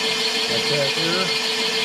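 A cylinder boring machine cuts an engine bore with a steady, close mechanical hum that runs continuously under a voice.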